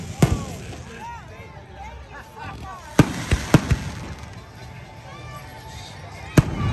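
Fireworks boom and crackle over Coney Island, Brooklyn, on a summer night, in scattered sharp bursts, some near and loud, others fainter, with people talking in the background throughout.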